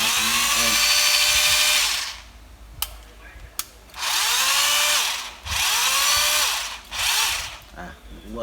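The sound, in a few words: cheap Bosch 36V concrete hammer drill running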